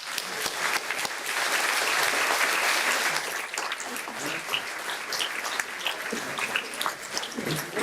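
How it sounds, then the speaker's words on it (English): An audience at an anniversary celebration breaks into sustained applause, dense clapping swelling in the first few seconds and then thinning into scattered claps and some voices. "I think I'd like to end on just giving a round of applause to Ken Buckles."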